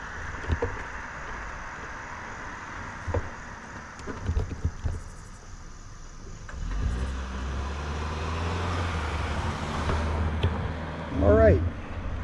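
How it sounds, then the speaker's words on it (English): Road traffic passes cyclists on e-bikes waiting at a crossing on a pathway in Greencastle, Indiana: scattered light knocks early, then a vehicle's engine rumble swells and rolls by close, with brief voices nearby. "Wait for traffic."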